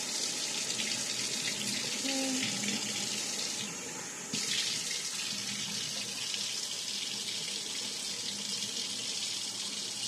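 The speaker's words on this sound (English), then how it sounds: "while we get some hot water" Hot water running steadily from a kitchen tap, a continuous close hiss of flowing water with a brief change in tone partway through and no talking.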